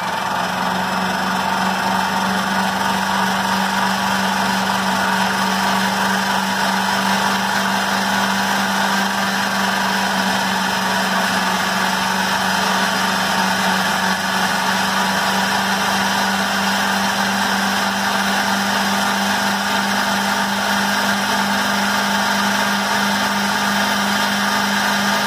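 An old secondhand kitchen mixer whirs loudly and steadily while beating herb butter, a constant motor drone with no talking over it.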